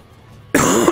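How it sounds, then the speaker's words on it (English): A single loud cough bursts out after half a second of quiet, close to the microphone, during a stream of the game Wulverblade. "picks up my coughing absolutely fine"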